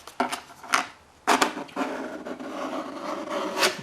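An old TV converter box coupon scrapes along interior seams, giving several short dry rasping strokes, close and moderately loud, with brief pauses between scrapes and a longer rubbing pass toward the end.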